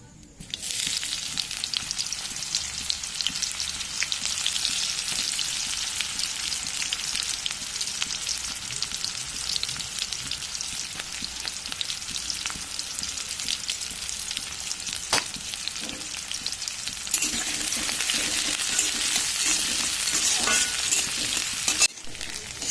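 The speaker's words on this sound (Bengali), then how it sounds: "দিয়ে দিচ্ছি এবার আমি পেঁয়াজ কুচি।" Chopped onions fry in oil in a kadai with a continuous hissing sizzle that holds steady, then grows louder and brighter near the end.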